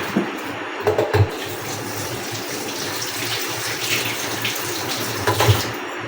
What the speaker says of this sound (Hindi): और इधर मैंने हाथ धो लूँ पहले मैं।